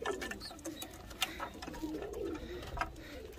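Soft, low pigeon coos murmur in a quiet outdoor setting, with faint rustles and a few small knocks.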